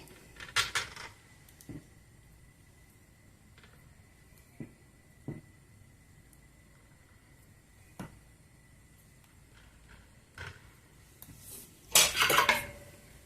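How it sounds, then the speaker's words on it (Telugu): Metal idli plate stands clatter as they are stacked while making ragi idli, giving a few sharp clinks spread out over the stretch and a louder burst of rattling metal near the end, with no talking. "ఇట్లా అన్ని స్టాండ్లు వేసేసుకున్నాము."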